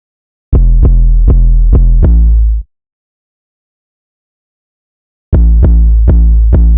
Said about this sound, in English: for the 808 coming in, we are using the Zay 808. Be playing this pattern.